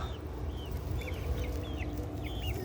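Chickens cluck in a backyard DIY coop, with a rooster among the flock. Short rising calls repeat several times at close range over a steady low background rumble, with no talk.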